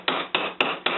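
A ball peen hammer strikes the end of a metal stove leg four times at a steady, even pace. Each hit is a sharp, ringing metallic tap, close and clear, with no talk over it.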